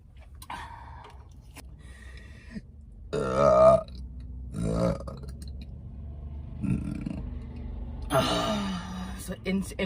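Deep, solid burps released by a woman, a few separate resonant belches spread across the stretch, fairly close and loud, with brief quiet gaps between them.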